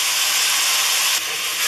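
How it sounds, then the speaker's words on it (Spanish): Chopped onion sizzling hard in a hot pan while tripe stew cooks, a loud steady hiss that fills the clip and dips slightly partway through. "Ese ruido tiene que hacer cada vez que metemos la cebolla."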